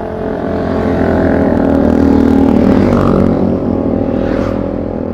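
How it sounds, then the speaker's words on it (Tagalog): Many motorcycles pass along a road near a mountain shrine in San Jose Del Monte, their engines forming a loud continuous roar that swells and fades as they go by. "Daming motor, nakakatakot."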